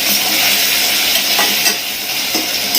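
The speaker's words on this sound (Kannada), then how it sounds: "ಸೊ ಇವಾಗ ಇದನ್ನ ಮಿಕ್ಸ್ ಮಾಡ್ಕೊಳ್ತಾ ಇದ್ದೇನೆ." Spices tempering in hot oil in a pan while being stirred, a loud, steady, close-up sizzle with faint scraping throughout and no talking.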